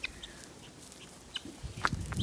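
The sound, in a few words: chickens let out of their coop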